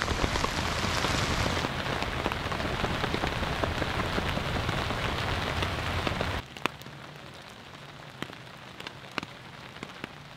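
Light rain patters on a NatureHike Cloud Up 2 tent with a snow skirt, a dense steady hiss for about six seconds that then drops to a quieter scatter of individual drops on the fabric.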